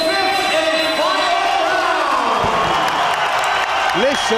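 An arena crowd at a BAMMA 4 middleweight title MMA fight roars continuously before the fifth and final round, with whistles and shouts rising over the din and a voice speaking across it.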